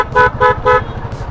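Car horns honk in a traffic jam on a city road, with three loud, evenly spaced toots close by and then a fainter fourth over a low engine rumble.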